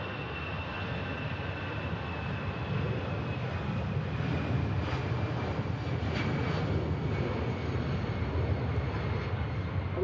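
A Hainan Airlines jet departing Manchester Airport, a broad continuous engine roar heard from a distance that swells slightly over ten seconds, with no voices.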